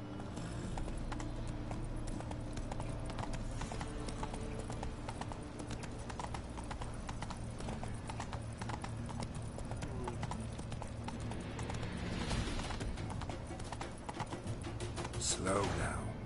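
Geralt's horse Roach gallops in The Witcher 3, a continuous drumming of hooves under a steady hum of game ambience and music, building near the end.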